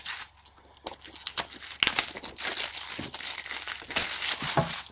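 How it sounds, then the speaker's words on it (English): Plastic wrap is peeled and crinkled off the box of a Conbrov T17 dashcam, close, busy crackling and tearing bursts that come in irregular runs, loud and alone without talk. "We'll take off the plastic"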